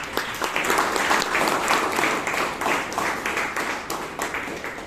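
A Toastmasters meeting audience in Bangalore gives a round of applause, a fairly close, lively burst of many hands clapping that pulses unevenly and fades slightly toward the end.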